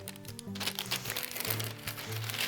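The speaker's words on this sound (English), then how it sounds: "Get inside your bag and just literally push the end of the nozzle in." A plastic piping bag crinkles and crunches as a piping nozzle is pushed into it while cupcakes are decorated, giving a short burst of close, rustling plastic handling.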